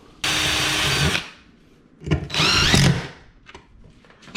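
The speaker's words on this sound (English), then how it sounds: "And now we'll drill a pilot hole." A power drill whirs loudly for about a second while drilling a pilot hole, then runs again in a shorter burst with a rising whine, followed by faint clicks.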